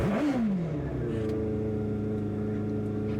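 A racing car engine at Cadwell Park revs up sharply, then settles into a steady, droning tone at constant pitch, heard close and loud from onboard a Honda Integra DC2 Type R in a tin-top race.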